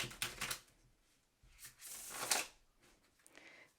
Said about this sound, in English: It's easier to shuffle when you're not trying to show other people what a shuffle looks like.